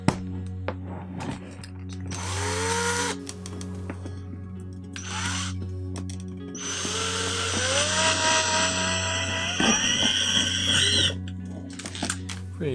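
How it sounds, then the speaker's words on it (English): A blunt drill bit bores through a cosplay prop on a workbench, in several whirring bursts of a few seconds each that rise in pitch as the drill spins up, loud and close, with a steady hum running underneath. "Should be pretty easy to drill through here, even with this incredibly blunt drill bit."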